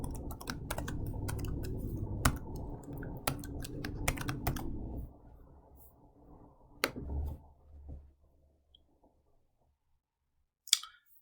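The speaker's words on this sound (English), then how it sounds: "Sometimes the hardest part of doing the homework is actually typing the answer" Rapid keyboard typing clatters steadily for several seconds, then slows to a few scattered keystrokes before falling silent.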